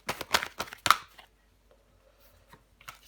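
Tarot cards handled and set down on a table in a few quick, close slaps and shuffles, then near silence with faint rustles.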